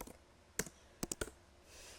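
A few sharp clicks of keys on a computer keyboard, one isolated press then a quick cluster of three, quiet and close with no talk.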